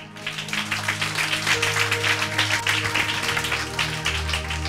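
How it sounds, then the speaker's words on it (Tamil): Applause from a church congregation during a Tamil sermon, a dense steady patter of many hands under sustained music or organ tones, fairly loud throughout. "இதுக்கு தான் பெரிய கைத்தட்டு வேணும்"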